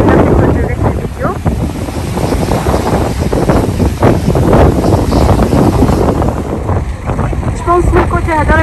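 Strong wind buffeting the microphone near the water at the Statue of Liberty, a loud continuous roaring rumble, with a voice speaking faintly under it.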